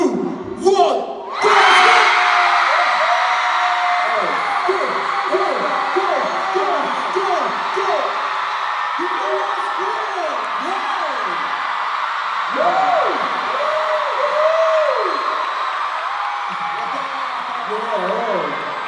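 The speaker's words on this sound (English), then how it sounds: "Team Team's scream is really loud." Concert crowd screaming in a noise contest at an ATEEZ tour show, a loud sustained roar of many high-pitched voices with wavering shrieks and whoops rising and swelling throughout.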